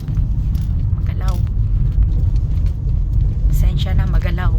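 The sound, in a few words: car driving on a bumpy road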